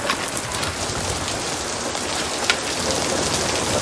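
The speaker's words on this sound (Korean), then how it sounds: "하늘에서 비가 내립니다." Steady rain falling in a film scene, a dense even hiss of drops throughout, close and constant with no talk.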